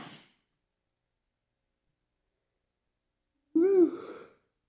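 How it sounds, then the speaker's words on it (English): A person yawns near the end, one drawn-out breathy yawn with a rising and falling voiced tone, after a brief breathy sound at the start and a long stretch of silence. "Stop yawning."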